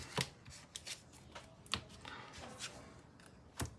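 Quiet, crisp flicks and riffles of cards being shuffled in a Yu-Gi-Oh! video game, a few sharper snaps standing out among softer rustles, with no voices.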